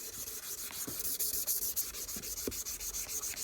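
Hand sanding of a motorcycle front-end part for an Aprilia RS125 conversion, with quick rhythmic back-and-forth rasping strokes, close and fairly quiet, repeating steadily with no talking.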